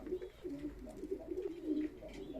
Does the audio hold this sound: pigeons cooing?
yes